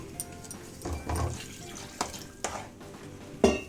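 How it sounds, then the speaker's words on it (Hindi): More water goes into cooking halwa in a pan while it is stirred, short bursts of splashing and sizzling with scraping strokes, close and fairly quiet. "इसमें पानी और डालूंगी गाइस"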